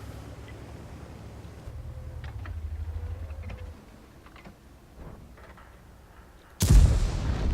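Tank gun firing in a combat video game: light mechanical ticks and clicks over a low rumble, then one sudden loud, booming shot near the end that rolls on into a heavy tail, with no voice.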